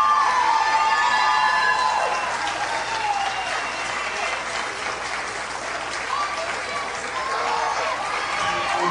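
Loud crowd applause and cheering fill a pageant hall as Miss Aruba 2010 walks out, with whoops and shouts riding over steady clapping that holds throughout.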